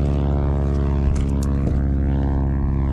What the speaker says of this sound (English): There's a plane in the background landing